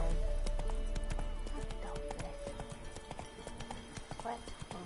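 A horse gallops in The Witcher 3, its hooves beating a quick, steady clip-clop close by, with a brief whinny and a voice speaking over it.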